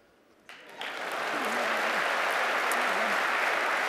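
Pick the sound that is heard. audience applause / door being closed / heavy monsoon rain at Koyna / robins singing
audience applause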